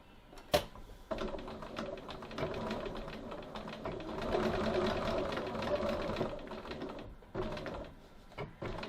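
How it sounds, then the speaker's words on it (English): A sewing machine stitches a pocket onto a bag, whirring in a long continuous run of rapid needle clatter after a sharp knock, then stopping for a couple of separate taps. "Now I'm just going to try and stitch my pocket up a bit."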